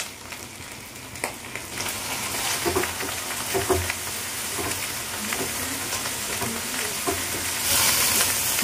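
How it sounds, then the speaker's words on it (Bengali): Chopped tomatoes frying with onion and garlic in a pan, a continuous dense sizzle with occasional stirring scrapes, growing louder toward the end, no voices. "দেখো টমেটোটা আমার ভাজা ভাজা হয়ে গেছে"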